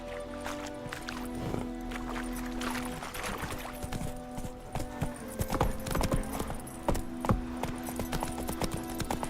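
Hooves clip-clop steadily as a horse trots in The Witcher 3, a rhythmic run of hollow knocks over low ambient game sound, with no talking.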